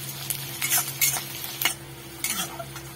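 Onions and spices fry in a pan for tomato dal. A continuous soft sizzle is broken by several brisk stirring scrapes of a spoon against the pan, close and fairly quiet.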